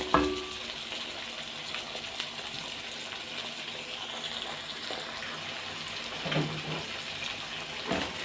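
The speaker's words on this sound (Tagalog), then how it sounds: "magigisa lang naman ako ng ng gulay" Vegetables including carrots and baguio beans sauté in a hot pan, giving a steady, moderate sizzle that runs throughout, with a few brief clatters of stirring.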